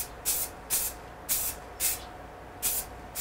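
Spray gun painting a large carved and shaped wooden sign: six short, evenly spaced bursts of hissing spray, each about a quarter second long, close and fairly loud, with quiet gaps between them and no talking.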